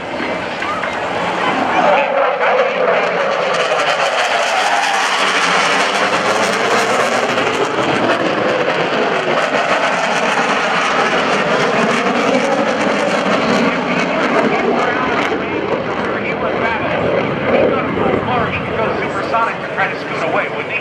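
A fighter jet on an afterburner pass at the NAS Oceana airshow fleet air power demonstration roars loudly and continuously, with a sweeping pitch shift as it passes and a spectator voice now and then.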